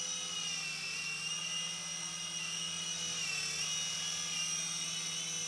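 A Sky Rover Vigilante RC helicopter with a modded controller hums with a steady, high-pitched whine of its spinning rotor and small motor, continuous and even throughout.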